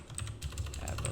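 Quick typing on a computer keyboard, a close, fairly quiet run of light key taps in an uneven rhythm, about a dozen strokes in just over a second.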